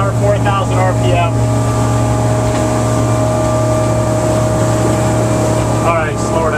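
A boat engine runs loud and steady during a sea trial on a Trophy 2052, a deep constant drone with a low tonal hum, while people speak briefly over it at the start and end.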